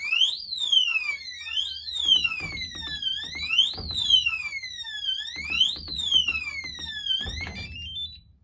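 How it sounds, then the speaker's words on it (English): A gun safe keypad alarm, set off by a wrong code, wails loudly in repeated rising-and-falling electronic sweeps, about four cycles, with soft thumps and clatter underneath. "There you can hear the alarm."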